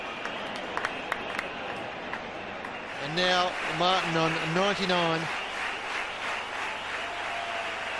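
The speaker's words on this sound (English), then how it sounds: "You hear the applause, Jeff?" Cricket crowd at a 2003 Australia–India match cheering a batsman nearing his hundred, steady distant applause running throughout under a commentator's voice.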